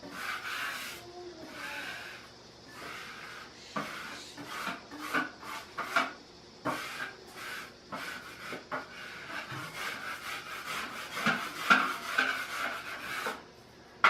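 A knife scrapes and smooths a lineup of setting material during a small bathroom remodel, making repeated close rubbing strokes of uneven length with short pauses between them; nobody talks.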